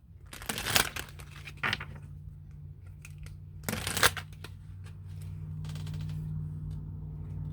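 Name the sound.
shuffling and pulling Making Magic oracle cards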